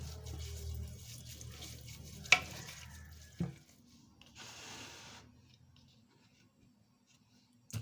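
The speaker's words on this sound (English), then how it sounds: "I'll add it more water." Water being added to palm fruit as it is washed in a bowl: soft sloshing and stirring at first, a couple of sharp knocks, then a short hissing pour before things go quiet.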